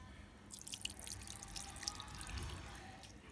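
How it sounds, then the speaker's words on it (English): Water and red wine splash and trickle into an Instant Pot, a soft, close pouring with scattered drips and gurgles, quiet and unaccompanied by talk. "So I'm adding some water. Plus I'm going to be adding a little red wine."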